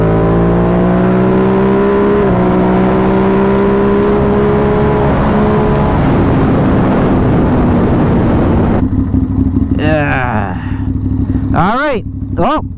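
A tuned Ducati Monster 937 fitted with a RapidBike Race Module and MWR HP kit, its engine droning loudly at steady revs before sharp rising and falling throttle blips near the end, close and dominant.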